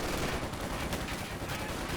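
Rifle and machine gun fire from Riflemen and Panzer Grenadiers in the strategy game Company of Heroes 2, a dense continuous rattle of gunshots filling the whole short stretch at steady loudness.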